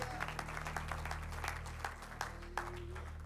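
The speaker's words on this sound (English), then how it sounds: "as we give the Lord a hand clap of praise." A church congregation claps in praise, a soft, steady patter of many hands heard from a distance under a low hum, with a few sharper claps standing out.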